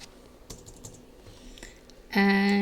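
A computer keyboard being tapped while a password is entered gives soft, scattered keystrokes nearby, followed by a sudden loud steady electronic tone in the final half second.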